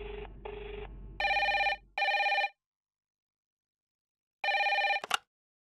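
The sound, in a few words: telephone ringing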